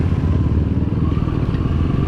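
A motorcycle engine labours loudly and steadily at close range as the bike climbs a difficult uphill track above a waterfall, with a continuous low rumble and some rattling clatter throughout.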